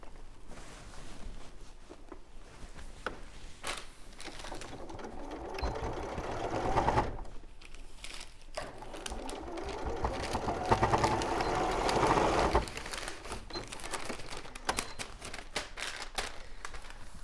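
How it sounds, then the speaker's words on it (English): Sewing machine stitching a straight seam across a soft toy rabbit, a quiet, steady, fast mechanical whir with bursts that rise and fall as the stitching runs, and no voices. "that's the machine sewing done"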